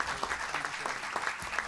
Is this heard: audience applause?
yes